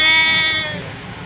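A newly arrived buck goat on a farm gives one loud, close bleat that wavers and trails off toward the end.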